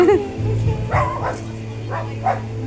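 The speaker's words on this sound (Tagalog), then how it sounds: "Ay, malalaking aso man yan." Several loud barks from large dogs ring out at irregular intervals close by, at an antiques house and restaurant, over a constant low background hum.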